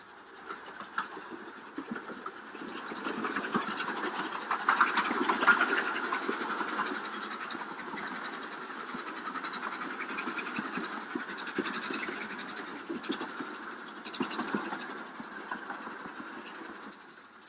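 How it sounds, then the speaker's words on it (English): The Darjeeling mountain train climbs through the hills, a steady mid-range rumble of rolling wagons and engine with faint rhythmic clatter, continuous and moderately distant on an old, band-limited recording. "the train winds its way up through the mountains, closely following the old hill cart road"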